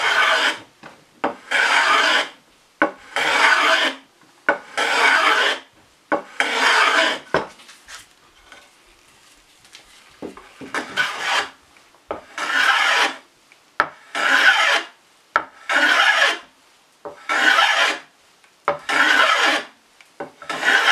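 Hand filing slightly rounds over the wood edges of a painted chair part clamped in a vise, a rhythmic series of raspy scraping strokes, about a dozen in all, close and fairly loud, with a brief pause near the middle.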